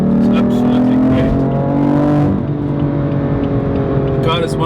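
BMW M4 Competition engine and exhaust on the move: a loud, steady drone with engine harmonics that climb and fall, and a short shift-like change midway, running under someone talking.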